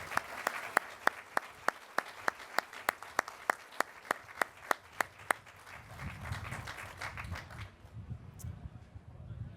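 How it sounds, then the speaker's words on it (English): Crisp, evenly spaced claps ring out at a grand reopening ceremony, a few hands keeping a slow rhythm for several seconds before fading into a low, muffled room murmur. "Please join me in giving a hearty round of applause to Chance, Susan, Klaus, Bridget,"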